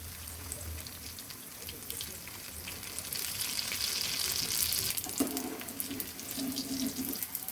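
Cauliflower pakoras in batter deep-frying in soybean oil over medium heat, a steady loud hiss and sizzle that swells midway, with light stirring clatter.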